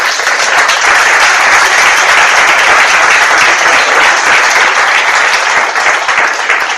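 An audience at a Barcamp tech event bursts into dense, sustained applause, many hands clapping loudly and evenly for several seconds without a break.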